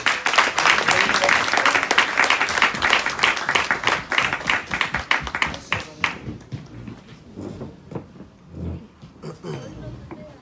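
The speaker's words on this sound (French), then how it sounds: "Est-ce qu'on peut applaudir pour le papa?" An audience at a graduation applauds for the father, dense clapping that fills the room before thinning into scattered claps and fading, with voices underneath.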